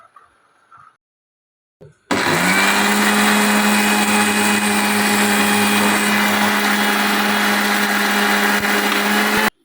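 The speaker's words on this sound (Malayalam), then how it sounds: "മിക്സിയുടെ ജാറിലേക്ക് ചൂടാറിയതിന് ശേഷം ഈ ഐറ്റംസ് എല്ലാം ഇടാം. എന്നിട്ട് ഇവയെല്ലാം പൊടിച്ചെടുക്കാം." A mixer grinder whirs at full power, a loud, steady high-pitched motor drone grinding roasted whole garam masala spices, starting abruptly after a brief quiet moment with a few soft clicks.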